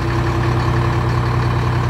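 A fire truck's heavy diesel engine idles steadily with a deep, constant rumble and a low hum, loud and continuous with no talking.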